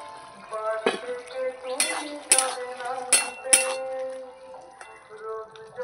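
A metal lid clinks off a pot of boiled potato and pumpkin, several sharp bright clanks and rattles of cookware close by, with faint kitchen sounds between them and no speech.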